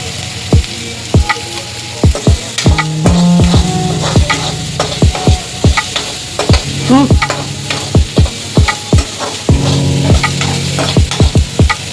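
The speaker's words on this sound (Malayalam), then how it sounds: "ഉള്ളി ഏകദേശം ഫ്രൈ ആയി വന്നിട്ടുണ്ട്" Onions frying in a pan, stirred with a utensil that knocks and scrapes repeatedly against the metal over a loud, steady sizzle, close up with no voices.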